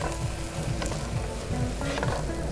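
Sweet potato and carrots sautéing in a pan, a dense continuous sizzle close by with occasional stirring scrapes over the steady frying hiss.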